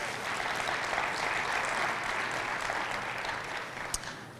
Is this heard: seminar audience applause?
yes